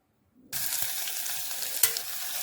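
After a brief silence, chopped onions in vegetable oil burst into a loud, steady sizzle as they are stirred in a pan, with light scraping taps and one sharper clink.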